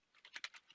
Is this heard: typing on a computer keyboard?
yes